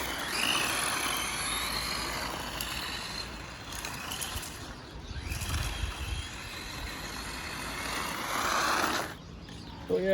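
A restored 2001 Tamiya Super Manta Ray RC car runs with a continuous whirring electric motor drone that rises and falls as it drives, moderately loud and close, with a brief dip near the end.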